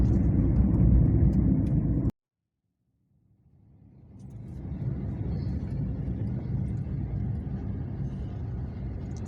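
Car cabin rumble on a rough, crowded weekend road out of Bangalore, a loud steady road noise that cuts out abruptly, then fades back in and holds.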